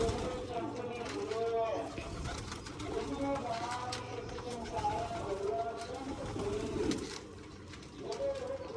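Pigeons pecking at grain coo in low, rolling, repeated calls close by, under someone speaking almost throughout.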